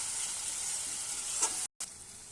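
Food sizzles in a pan while it is stirred after salt goes in. The frying hiss is steady and bright, with one brief scrape near the end just before a short cut in the sound.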